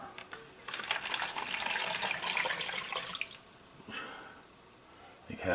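Hot water is poured from a container into a bowl holding a little chunky salt, a close, bright splashing stream lasting a few seconds before tapering into trickles.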